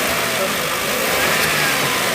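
A Maruti Suzuki WagonR running on CNG, with a faulty injector recently fixed after a cylinder misfire, idles and is revved in steady mid-pitched engine hum, close and loud throughout.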